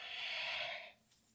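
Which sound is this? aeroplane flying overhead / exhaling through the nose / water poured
exhaling through the nose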